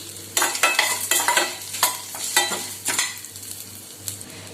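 Close-up stirring of masala frying in a pan for a Tamil pepper curry, with repeated scraping strokes of a spoon against the pan over a low steady sizzle, and no voices.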